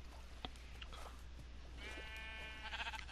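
Sheep on a farm bleats softly in a brief wavering call near the end, faint and somewhat distant over steady low background hum.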